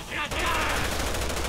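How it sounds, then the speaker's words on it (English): Rapid bursts of gunfire from several weapons crackle continuously in a Resident Evil 6 co-op game fight, dense and loud, with game ambience behind. "There's so much gunfire coming from the other side"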